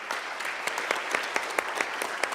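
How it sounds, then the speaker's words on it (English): A crowd at a startup pitch competition final gives a continuous round of clapping, an even patter of many hands from beginning to end, with no voices over it. "big round of applause."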